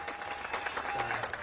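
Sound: cheers and applause for a fallen rescuer

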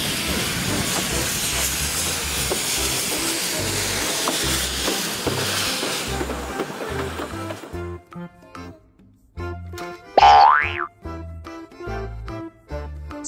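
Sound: Thomas the train steam hiss

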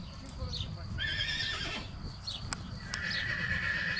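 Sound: stallion neighing

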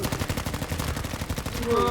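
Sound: gunfire in the video game Battlefield V

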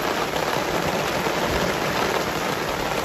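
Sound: rain during a thunderstorm

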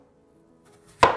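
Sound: knife cutting an apple in half

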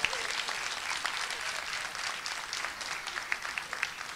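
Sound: audience applause

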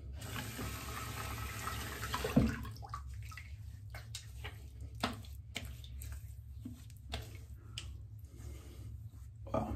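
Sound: rinsing face with tap water at sink

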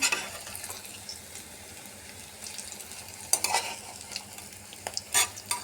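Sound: stuffed kakrol (spiny gourd) frying in a pan

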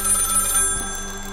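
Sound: telephone ringing in video game Maid of Sker

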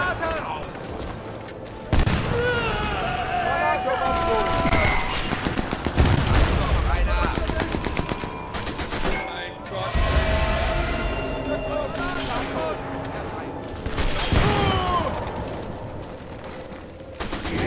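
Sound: gunshots in the video game Sniper Elite 4

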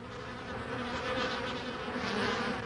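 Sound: bees buzzing in a hive

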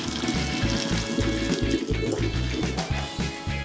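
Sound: draining cooked ramen noodle water through a strainer

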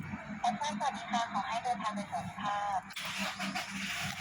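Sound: car engine idling after being started

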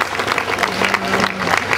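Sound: audience applause

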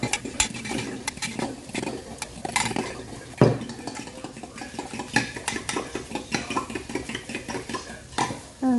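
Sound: eggs being beaten in a bowl for a potato frittata

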